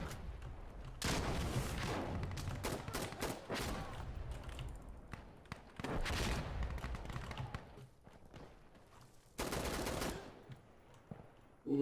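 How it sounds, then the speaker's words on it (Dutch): Bursts of automatic gunfire in the tactical shooter Insurgency Sandstorm, several loud, dense volleys separated by quieter gaps, with faint voices between them. "Dus ze schieten mij."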